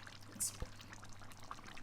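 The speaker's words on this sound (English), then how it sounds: "Just add maybe half mug of water just to boil the potato into it" Water pours from a mug into a cooking pot with potatoes for beef caldereta, a faint, short splash and trickle in a quiet kitchen.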